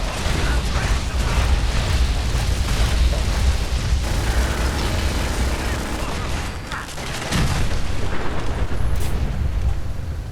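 Grenade explosions and gunfire in Fallout 4 combat against sentry bots, a loud, dense wash of blasts and mechanical clatter that continues without a break for the whole stretch.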